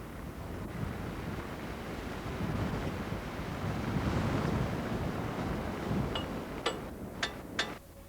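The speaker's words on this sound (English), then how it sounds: "Hurricane force winds are routine." Strong winter wind roaring steadily on a high, exposed mountain summit, a broad rushing blast that swells and eases, with a few sharp creaks near the end.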